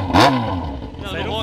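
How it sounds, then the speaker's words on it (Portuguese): Yamaha XJ6 motorcycle engine blipped into a sharp, loud rev that roars briefly and then settles to a rough idle rumble close by, with voices talking over it. "XJ, galera. O ronco é bravo."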